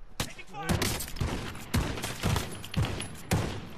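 Rapid gunfire bursts from the video game Call of Duty Warzone, several sharp repeated volleys over about four seconds, loud and close, with players talking over the shots.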